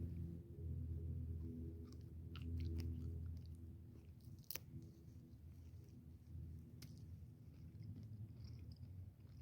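Someone chews a raw, washed Sahara mustard plant root outdoors in the Mojave, with soft, close crunching and mastication, a few sharper bites standing out over a low rumbling background.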